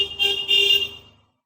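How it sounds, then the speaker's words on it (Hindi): A multimeter beeps while its probes test the terminals of a fridge compressor, a thin steady electronic tone close by that pulses briefly and then fades out to silence. "बीप का आवाज भी आएगा"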